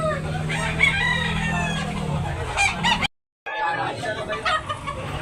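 A white-legged rooster crows loudly and close by, one long drawn-out call that fades around the middle, followed by a short gap and then scattered clucking and background fowl noise at a poultry sale in Tabunok, Talisay, Cebu.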